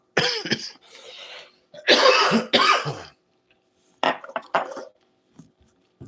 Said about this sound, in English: I just cough when I smoke, bro.